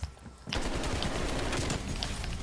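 Sustained automatic gunfire erupts loud and close in Call of Duty: Black Ops Cold War's Gunfight mode, a rapid continuous burst following a brief quieter lead-in.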